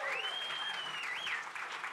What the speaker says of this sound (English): a giant round of applause for John and Nick behind the bar getting you the drinks